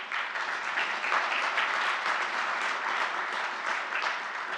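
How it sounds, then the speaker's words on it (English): A conference audience claps for the speakers, a dense, steady wash of applause lasting several seconds without any voices. "Please give a round of applause to our speakers too."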